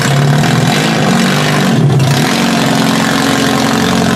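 A demolition derby car's four-cylinder engine, misfiring on three cylinders and leaking fuel, runs loud and close as it is shifted into drive, holding a steady, rough, throbbing idle throughout.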